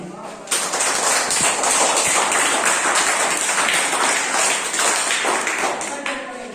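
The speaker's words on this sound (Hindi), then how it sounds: "आप लोग एक जोरदार ताली" Applause from a school audience in a primary classroom for a student, dense continuous clapping that starts abruptly and holds loud for several seconds before fading.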